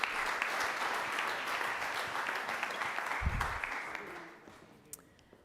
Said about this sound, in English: So another big applause for you.